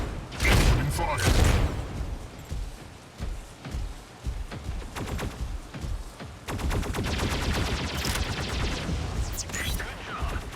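Rapid bursts of gunfire and heavy booms from mech combat in the video game Mech Arena, with shotgun-style blasts, a sustained volley of repeated shots in the second half, and short synthetic voice callouts mixed in.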